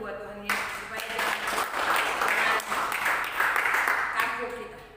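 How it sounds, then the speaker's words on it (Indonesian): Church congregation clapping for Jesus during a sermon, applause swelling in after a brief spoken moment and continuing steadily, with a voice carrying on over it toward the end. "Tepuk tangan dulu buat Tuhan Yesus"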